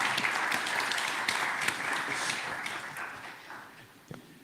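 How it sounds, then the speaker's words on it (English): A summit audience in Istanbul applauds its speakers and panelists with sustained, dense clapping that holds steady for several seconds before thinning out and tapering toward the end. "Can I get a big round of applause for all the speakers?"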